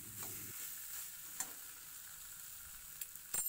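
Boiled potatoes are sautéed with spice paste in a pan, with a faint, soft sizzle and a few light stirring clicks and scrapes, quiet and without talk.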